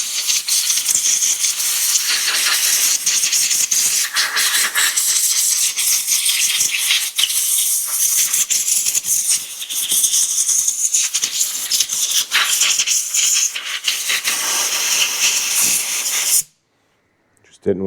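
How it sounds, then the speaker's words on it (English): Compressed air hisses in a loud, steady blast for about sixteen seconds, blowing debris off parts of a Craftsman DLT3000 riding mower, then cuts off abruptly into silence. "Blow this off with compressed air just out to the side."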